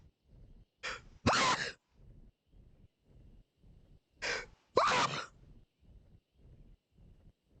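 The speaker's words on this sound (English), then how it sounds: "Those were sneezes." Two pairs of sneezes, each a short inhale followed by a sharp burst, separated by a few seconds, over a faint repeating background pulse.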